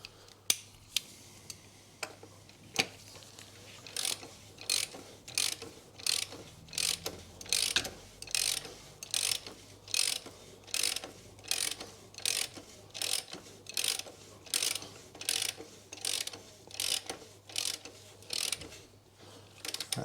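Ratchet tightening the oil filter housing on a 2016 Ford Focus 1.5 TDCi, a rapid run of crisp clicks in regular bursts, repeated some twenty times in close succession.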